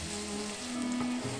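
Turmeric and other spices with a red pepper fry in an oily pan, a soft, steady sizzle heard close and alone for a brief moment.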